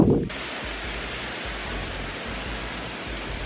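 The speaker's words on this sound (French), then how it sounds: "J'ai le micro de l'appareil, mais vous allez surtout entendre le vent." Steady broadband wind noise buffets a microphone, a constant rushing roar after a brief thump at the start.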